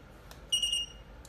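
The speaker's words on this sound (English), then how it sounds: "You can hear beep beep beep." A battery tester sounds a single short, high-pitched electronic beep just after its button is pressed, standing out clearly over a quiet background hiss.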